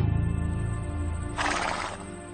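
A horse whinnies loudly and close, a wavering neigh that rises into a bright, breathy burst before fading, with no voices present.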